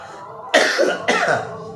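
A man with a lingering cough after illness gives two harsh, close coughs about half a second apart, with no speech.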